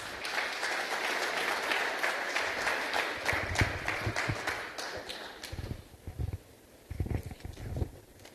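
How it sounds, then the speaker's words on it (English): An audience at an education excellence awards ceremony applauds, sustained clapping for about five seconds that fades into scattered claps and low thumps near the end. "Round of applause one more time for Mebeti"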